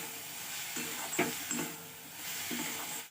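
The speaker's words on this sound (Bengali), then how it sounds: "এখন সবজিটাকেও বেশ কিছুক্ষণ লবণ দিয়ে ভাজা ভাজা করে নেব।" Vegetables with capsicum, green chili and salt fry in a pan, giving a steady close sizzle broken by a few sharp stirring clatters, with no voices.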